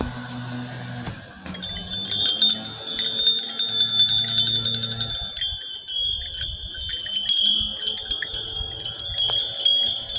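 Several bells ring out in a bright, layered chime with sustained tones that shimmer and overlap, moderately loud, with low rumbling noise early on.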